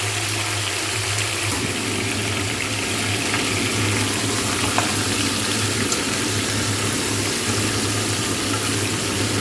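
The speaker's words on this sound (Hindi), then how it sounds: "चिकन को हिलाते जाइए और चिकन के कलर चेंज होने तक इसको हम पकाएंगे।" Chicken pieces fry and get stirred in a pan, a steady loud hissing wash of sizzle that runs continuously and close, with faint scraping underneath and no talking.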